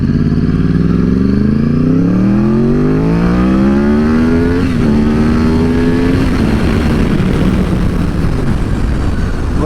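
A car driven hard up a road to work, the engine note climbing steeply through rising revs and then leveling off, loud and close throughout with no talking.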